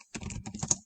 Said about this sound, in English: press Shift and Enter on your keyboard